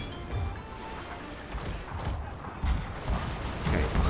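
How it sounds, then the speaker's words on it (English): Rapid gunfire bursts from Gatling guns and Armstrong guns in a video game battle, a dense continuous clatter of shots and booms rising louder toward the end, with faint talk in the background. "I've always liked the Armstrong guns more than Gatling guns."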